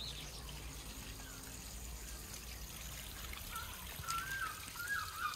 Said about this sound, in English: Little water feature